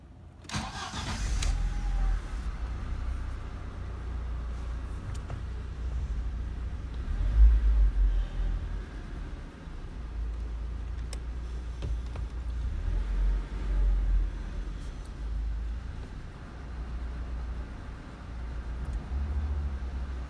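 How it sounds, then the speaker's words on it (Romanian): A car engine cranks and catches with a short burst, then settles into a steady low idle rumble that continues evenly, with a small surge midway and no talk. "Să-l pornim la motorul."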